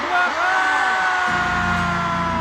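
A big concert crowd at a show in the Philippines yells together on a countdown, a loud sustained mass shout that swells in and holds to the end, with whoops and cheers blended through it.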